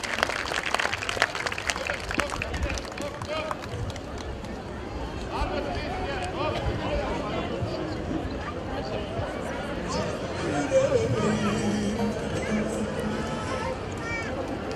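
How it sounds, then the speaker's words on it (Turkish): Outdoor crowd at a Yörük nomad festival and migration-march celebration clapping in a broad, continuous wash of applause, strongest in the opening seconds, with crowd chatter and speech mixed throughout. "Bir alkışlayalım mı?"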